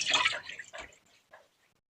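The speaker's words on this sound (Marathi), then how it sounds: "कढईमध्ये आपल्याला 1 लिटर दूध घालून घ्यायचे." Raw milk from a household cow is poured into a kadhai. Splashy pouring comes in a couple of short bursts, then a brief trickle that fades to quiet. No one speaks.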